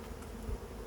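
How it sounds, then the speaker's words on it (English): Honey bees crowded at the front entrance of a hive, producing a dense, continuous buzzing drone, steady and close throughout the short moment with no speech. "there's plenty of bees. They're crowded on the front, they're trying to get in"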